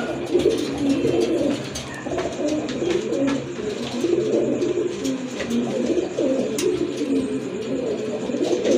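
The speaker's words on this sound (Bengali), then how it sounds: "আরেক জোড়া কবুতর, এটা হচ্ছে আপনার কালো চিলা না ভাই? কালো চিলা কবুতর" A pair of black chila pigeons with feathered feet coo steadily and continuously, a soft, throaty bubbling that fills the whole stretch close by, with no speech over it.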